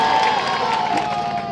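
An audience at a constitution presentation event in Labé, Guinea, claps and cheers steadily throughout, a dense crowd roar with shouts rising above it.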